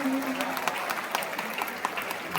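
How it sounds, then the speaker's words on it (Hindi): Audience applause at a Hindi poetry recital honouring Atal Bihari Vajpayee, a dense, steady wash of clapping from a large crowd, close and sustained throughout. "तालियां थोड़ी और"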